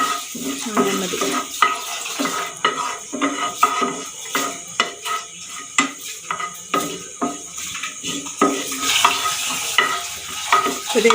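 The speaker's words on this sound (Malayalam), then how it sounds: "നെയ്യൊന്ന് ചൂടായി വന്നിട്ട് അതിലേക്ക് കാഷ്യൂ നട്ട് ഇട്ടിട്ട് ഒന്ന് ജസ്റ്റ് ഒന്ന് ഫ്രൈ ചെയ്തെടുക്കാം" Cashew nuts fry in hot ghee in a pan, a continuous sizzle under frequent close scraping and clinking strokes from a stirring utensil against the metal.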